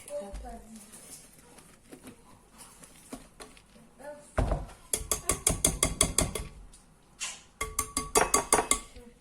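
Sfenj dough for Moroccan fried doughnuts, stirred by hand in a bowl: a fast, rhythmic run of loud clacking and scraping strokes after a quieter start, with a voice talking now and then.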